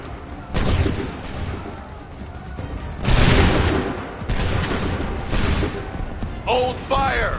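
Musket volleys fired on command in Assassin's Creed III boom out in loud, rolling bursts, at least three big salvos spaced a couple of seconds apart, with shouted voices in between.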